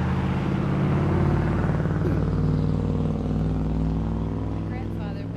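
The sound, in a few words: loud truck passing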